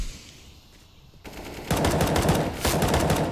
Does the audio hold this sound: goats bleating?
no